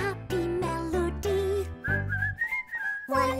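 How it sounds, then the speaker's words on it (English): Cheerful whistling carries a bouncy melody of short and held notes, close and clear, with soft musical accompaniment. "whistling a happy melody."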